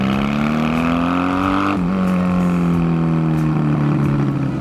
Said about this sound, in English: God, I love the exhaust on this bike.